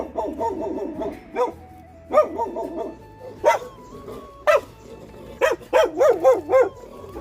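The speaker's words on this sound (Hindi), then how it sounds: "ये तो पापा पे भी भौंक रहा है।" A house dog barks at someone arriving in a hillside village home, delivering short bursts of sharp barks and yips with pauses between, a few clustered rapidly near the end, fairly close and clear.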